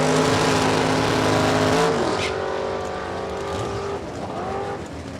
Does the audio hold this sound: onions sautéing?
no